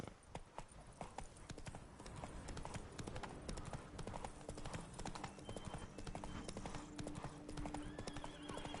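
Roach, Geralt's horse in The Witcher video game, gallops with steady, close clip-clop hoofbeats, brief whinnies and faint voices mixed in over a busy background.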